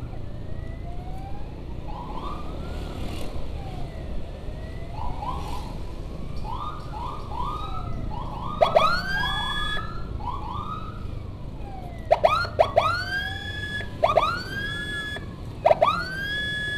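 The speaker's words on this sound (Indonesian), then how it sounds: "Sirinenya kecil banget ya guys, di belakang ini ambulan kita." Ambulance siren in an Indonesian funeral escort convoy, rising and falling wails and sharp yelp bursts sounding small and thin behind steady road noise, growing louder with repeated quick whoops toward the end.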